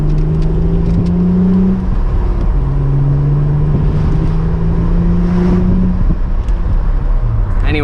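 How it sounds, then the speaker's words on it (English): Acura TL exhaust note, a loud steady engine drone that dips and rises in pitch as the car shifts through gears while breaking in its stock clutch, continuous and close without talk. "some exhaust notes"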